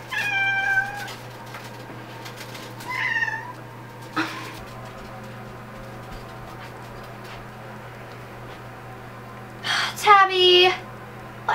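A house cat meows several times in a home setting, with drawn-out calls near the start, another around three seconds, and a louder cluster of meows near the end over a steady low hum.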